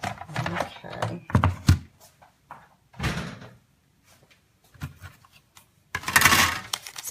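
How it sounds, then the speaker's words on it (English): A hand-cranked die-cutting machine presses a star shape out of designer paper, giving a few uneven clunks and a rolling grind, mostly close and irregular, with a person talking in between. "So this is punching out my star, and then this is punching out my saying."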